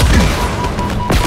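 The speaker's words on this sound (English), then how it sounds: "Little grunts are taking me down with their dumb little stupid pistols." Gunfire from small pistols carried by grunts in the video game Halo Infinite, a dense rattle of repeated shots and impacts filling the whole moment, loud and continuous with no voices.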